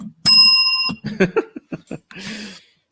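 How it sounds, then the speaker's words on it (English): A single bright bell ring rings out and fades, followed by a few short bursts of voices and brief noise. "I get a bell for that."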